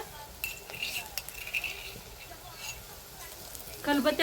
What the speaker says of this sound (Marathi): कांदा हलकासा भाजत आलेला आहे, त्याच्यातच टाकूया लसूण